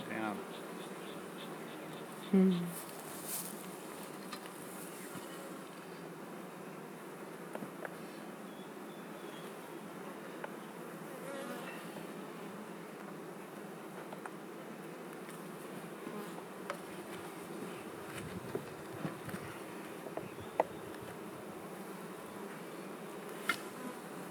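Honeybees buzz around an open Langstroth or Flow hive during a brood inspection, a dense, steady drone close by that runs throughout, with occasional faint knocks and handling sounds.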